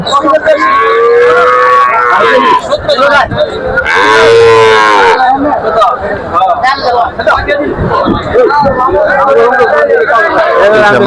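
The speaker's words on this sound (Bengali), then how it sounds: "এই যে সব বড় গরু আছে বড় বড় গরু গুলো সব" Loud cattle mooing rises out of a busy pre-Eid cattle market near Dhaka, with one long, strong low call standing out amid steady crowd chatter and people talking nearby.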